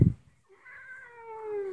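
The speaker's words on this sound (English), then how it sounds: "He's a kitty cat." A cat meows once, a drawn-out, rising-then-falling call heard close and clear after a brief bump of handling noise, with no talking over it.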